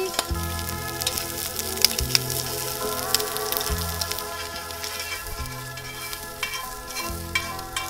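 Food fries in a pan as it turns crispy, giving off a continuous close sizzle dotted with dense little crackles and spits, with no talk over it.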